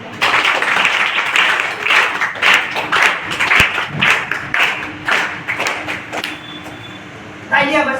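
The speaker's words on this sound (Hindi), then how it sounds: "तालियां बजती है ना" Audience applause at a student prize-giving ceremony honouring a first-place winner, dense broadband clapping sustained for several seconds with voices mixed in, easing off near the end before a brief burst.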